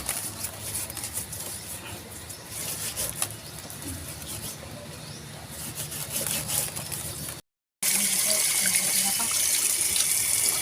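Salted chicken pieces being rinsed under running water in a rural kitchen, with a steady close gush of water, a brief dropout, then louder flowing water and faint bird calls in the background.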